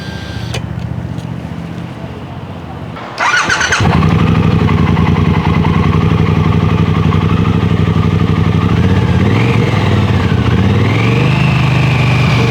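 A low ticking hum, then a 2023 Triumph Bonneville Bobber 1200 motorcycle engine cranks and fires, settling into a loud, steady idle with a few light revs near the end.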